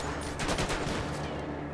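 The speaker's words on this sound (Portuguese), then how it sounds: "Tô escutando ele atirando" A rapid burst of gunfire from GTA V zombies mode rattles out in quick overlapping shots, moderately loud and dense for under two seconds, with no voices.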